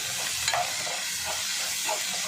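Steady broadband sizzling of food frying in a pan, with a few soft stirring scrapes now and then.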